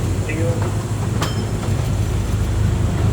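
A Driving Creek Railway train pulling many wagons rumbles along on its tracks with a steady, loud, low roar and a brief squeal partway through.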